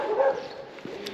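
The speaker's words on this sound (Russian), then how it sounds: "Сзади собаки какие-то там бегают." Dogs barking somewhere behind on a residential street in Lazarevskoye, Sochi, in March, a short distant burst with a brief yelp near the end, no talk over it.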